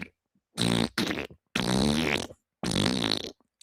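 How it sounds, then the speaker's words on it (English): Four short bursts of a soundboard fart effect, each one loud, buzzy and close, separated by brief silences; the pitch and length vary from burst to burst, with no talking. "Is that why the farting sounds are different all the time?"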